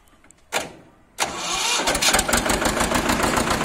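A 2008 Mahindra 255 tractor engine cranks briefly, then catches on a second try and settles into a loud, steady, rumbling idle close by.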